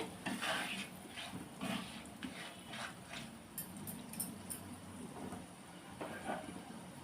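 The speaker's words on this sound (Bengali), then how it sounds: "এগুলোকে হালকা মিক্স করে নেব" Papaya curry ingredients stirred in a pan with a utensil: a series of soft scrapes and light clinks at an uneven rhythm over a quiet background of low cooking noise.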